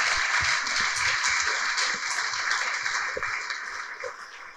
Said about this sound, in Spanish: si tú das un aplauso, un gloria a Dios